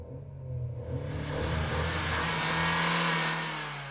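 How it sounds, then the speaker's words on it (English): A Mercedes CLA 250 Shooting Brake, all-wheel drive with a 155 kW gasoline engine and dual-clutch transmission, pulls hard under acceleration, its loud, rising engine note swelling steadily close by. "We're testing the all-wheel drive CLA 250 shooting brake with 155 kilowatts and dual-clutch transmission."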